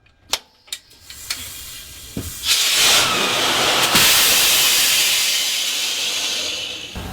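Compressed air at 2,000 pounds blasts through the firing valve of a submarine torpedo tube during a test shot aboard the nuclear-powered USS Florida, following a few sharp metallic clicks with a loud, sustained hissing rush that slowly fades.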